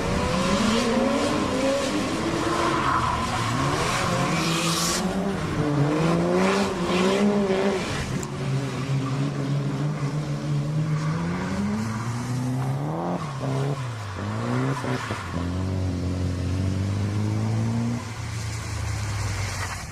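Cars drifting at night on a remote Kyushu street, engines revving hard with rising and falling pitch and tires squealing through continuous loud slides, close by and sustained, with no talk.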